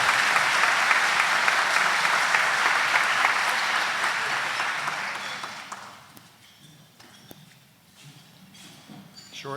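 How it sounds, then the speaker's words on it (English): Audience applause for a board of directors at a chamber of commerce annual meeting, a dense sustained clapping from a large crowd that fades out after about six seconds, leaving a quiet room with scattered claps. "Let's give them another round of applause."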